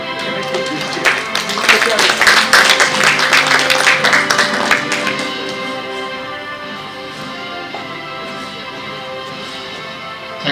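Audience applause fills an awards ceremony hall, loud and dense for the first few seconds, then thinning into scattered claps and a lingering murmur of the crowd.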